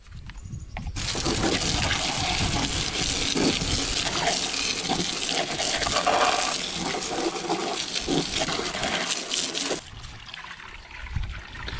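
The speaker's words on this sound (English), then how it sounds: "we'll give it another rinse, and we'll let it dry" A deer skull being rinsed under running water, with a steady gushing, splashing stream lasting about nine seconds before it trails off into quieter drips.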